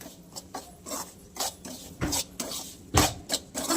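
Semolina (rava) dry-roasted in a pan over low heat for mango sheera, heard as a series of close scraping and clinking strokes of a spoon against the pan, irregular and fairly quiet, with no talking.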